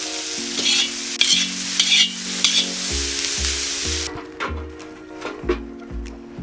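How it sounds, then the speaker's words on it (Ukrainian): Onions sizzle steadily in a hot pot while a utensil scrapes and stirs in repeated strokes, close up with no talking. "Цибулю буду смажити приблизно 2 хвилини."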